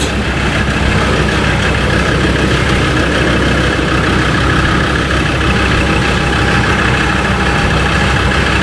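A car engine idles loudly and steadily in Drive with the wheels lifted off the ground, spinning them freely; a constant low rumble with no talking.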